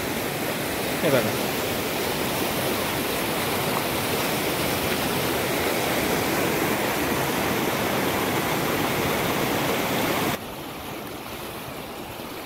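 Rainwater rushing down a swollen village stream in Yavat, Daund taluka, Maharashtra, a steady close roar that drops abruptly to a quieter rush near the end, with someone speaking briefly early on.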